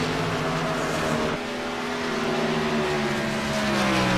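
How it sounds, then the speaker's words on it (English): A race car engine, reportedly suffering engine trouble, holds a loud, steady drone with sustained harmonic tones that dip briefly midway before resuming, with no talking. "Sounds like he may be having a little engine trouble there or something, not sure."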